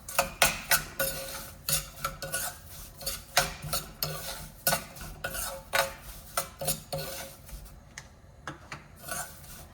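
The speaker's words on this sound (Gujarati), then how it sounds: "ત્યારબાદ આપણે ડ્રાયફ્રૂટ્સ નાખીશું, કાજુ બદામ, અને સારી રીતે મિક્સ કરી દઈશું" Sooji siro is being stirred in a pan after cashews and almonds are added, a rhythmic run of close scraping and rubbing strokes with light clinks of the spoon against the metal. No one speaks.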